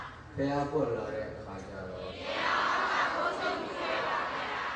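A large crowd of mostly women gathers at a Buddhist monk's sermon in Myanmar, their low chatter and murmuring building into a louder, sustained wash of voices.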